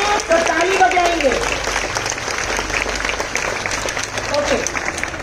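An audience at a motivational talk during a visit to Banasthali bursts into steady applause, dense clapping that carries on while people speak over it.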